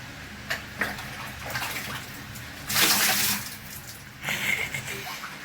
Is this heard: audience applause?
no